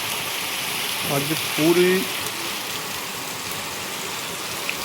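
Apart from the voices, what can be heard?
heavy rain falling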